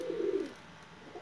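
Gift pigeons coo in a soft, low, throaty burble lasting about half a second, followed by a quieter murmur, with no one speaking.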